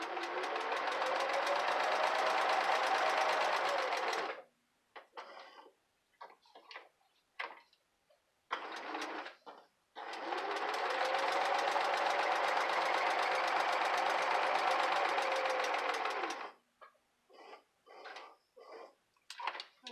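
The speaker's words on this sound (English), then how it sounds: "So we're just going to sew on the three sides because we want the top left open so that we can have it open for our pocket." A sewing machine stitches the sides of a pocket for a handmade junk journal, running in two long steady bursts of rapid mechanical whirring, each followed by short stop-start clicks and pauses between seams, close and clear with no talk.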